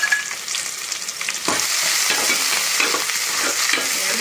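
Green chilies, onion and curry leaves are frying with mustard seeds in hot oil for an Andhra sambar tempering. A steady, close sizzle grows louder after an opening splash and continues without a break.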